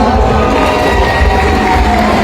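At a district civil defence volunteer fundraiser in Sung Noen, Thailand, a crowd applauds the runner-up football team in a loud, continuous wash of clapping and cheering.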